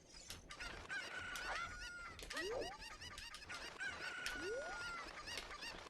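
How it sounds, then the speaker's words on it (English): Chickens in The Legend of Zelda: Ocarina of Time on the N64 cluck and squawk repeatedly with rising honking calls, loud and busy over a steady game background with no talk. "there's the chickens"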